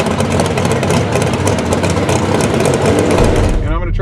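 A Ford Mustang with a blown Coyote engine idles loudly and close by at a drag strip, a continuous deep, lumpy rumble that cuts off near the end.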